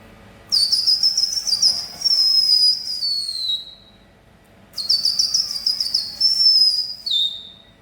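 A man whistles an imitation of a yellowhammer's song: two bright, high phrases of rapid chirping notes, each ending in a long drawn-out note, separated by a short pause and heard alone and close.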